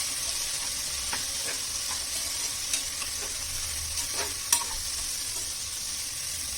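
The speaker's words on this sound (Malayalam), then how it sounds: "ഇനി ഇത് നന്നായിട്ടൊന്ന് ഇളക്കി കൊടുക്കണം." Shallots and onions for a Kerala-style beef curry frying in a pan, giving a constant close sizzle. Occasional stirring scrapes and small clicks sound over it, with no voices.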